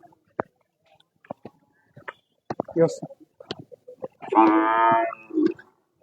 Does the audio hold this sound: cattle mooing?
yes